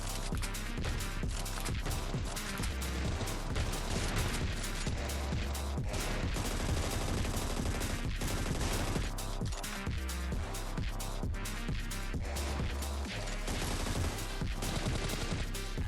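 Dense, continuous gunfire from the Scarfall video game during a ranked match, loud rapid bursts of automatic shots crowding together over the whole stretch with no talking.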